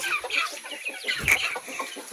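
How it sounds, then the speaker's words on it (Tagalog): Several chickens on a mountain farm cluck and chatter nearby in a busy, irregular stream, with one louder squawk in the middle. "Ayan, mga manok."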